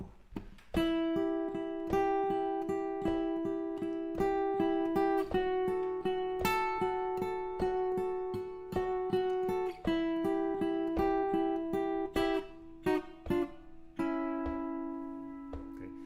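Guitar plays the top line of a blues riff, clear plucked notes in a steady rhythmic pattern over a held bass note, close and fairly quiet with no talking.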